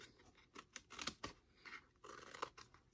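Scissors snipping the corners off a paper treat box template, close and quiet, a quick series of short crisp cuts and rustles with brief pauses between them.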